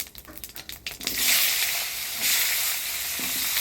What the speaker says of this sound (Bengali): ফোড়নে দিয়ে দিব শুকনা লঙ্কা গোটা জিরা